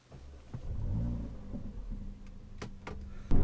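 A Mercedes-AMG CLA45 engine rumbles low and steady while driving, swelling slightly then easing, with a sudden louder thump near the end.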